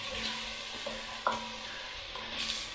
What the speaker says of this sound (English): So you just want to fry that off a bit.